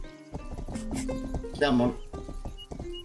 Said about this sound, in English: So, come on, get on the horse.